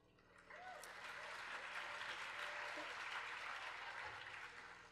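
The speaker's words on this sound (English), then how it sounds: "I like what you guys think is worthy of applause." A crowd applauds at a solo concert, a faint, even rush of many clapping hands that swells in and holds over a low background hum before easing off.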